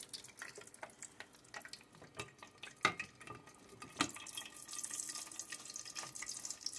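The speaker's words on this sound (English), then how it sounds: "As the oil gets hotter, the sound gets even louder." Shrimp egg rolls frying in a pan of hot oil give off a dense crackle of bubbling pops and sharp spits, with the hiss thickening and growing louder toward the end, no voices.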